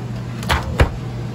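A small microwave oven in an RV travel trailer kitchen is handled, giving two quick, close clunks of its door less than half a second apart over a low steady hum.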